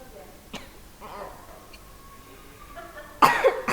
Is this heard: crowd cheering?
no